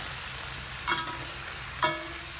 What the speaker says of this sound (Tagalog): Lagyan na natin ang ating pork ribs. Haluin lang natin.